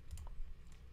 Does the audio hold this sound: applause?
no